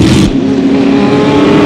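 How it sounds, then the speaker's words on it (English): A Lola T142 Formula 5000 race car with Chevy power rolls out onto the track for the start of a race, its engine droning loud and close with a steady, buzzing tone. "there he sits in the number 37 Lola T142, heading out onto the track for the start of the race"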